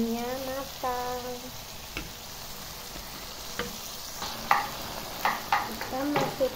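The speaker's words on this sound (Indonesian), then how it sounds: "Lalu kita tambahkan air agar ayamnya matang." Chicken cooks in a pan for sambal ayam with green chili as water goes in, with a soft simmering sizzle, a few clinks of a utensil against the pan and some scraping stirs.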